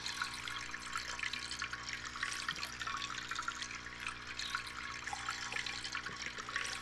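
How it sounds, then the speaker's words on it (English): Water splashing steadily from a drinking fountain in the space survival game Stationeers, a continuous broadband running-water rush held at an even level throughout with no talk over it. "now if I go and get a drink of water from a fountain"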